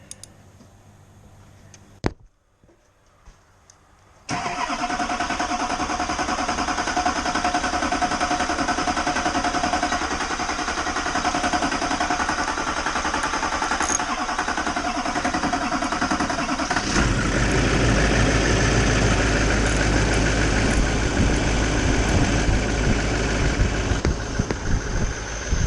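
Engine of a gin pole truck under construction cranks briefly, catches and fires up, then settles into a loud, steady idle with a rough, clattering exhaust note that deepens partway through.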